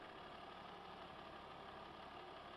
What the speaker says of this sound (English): this tractor sounds really good here. I'll get up on here and fire it up for you.